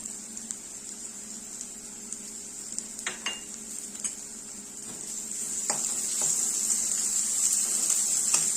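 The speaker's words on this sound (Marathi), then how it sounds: "तो कांदा छान परतून झालेला आहे, यामध्ये आपण घालणार आहोत आलं लसूण" Ginger and garlic hit sautéed onion in a hot pan while cooking matar keema, giving a steady, fairly quiet sizzle that grows a little toward the end, with a few light clinks from stirring.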